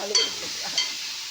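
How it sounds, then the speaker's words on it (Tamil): Chicken liver frying in a pan with sautéed tomatoes for gravy, giving a soft steady sizzle with a couple of brief stirring scrapes. "தக்காளி நல்லா வதங்கின உடனே ஈரலை போடணும்."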